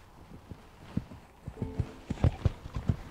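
Heavy draft horse hooves clip-clopping on a hard surface, a steady walking rhythm of distinct thuds growing louder and closer, heard alone.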